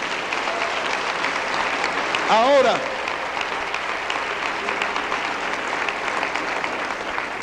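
A church congregation claps during a sermon, a steady bed of applause throughout, with one person briefly speaking and a rising-falling vocal cry cutting across it partway through.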